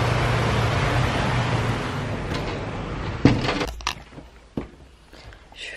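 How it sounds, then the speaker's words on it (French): Hail pelting down outside during a storm, a dense steady patter that fades after a few seconds into scattered sharp knocks and clatters. "Je crois qu'il grêle."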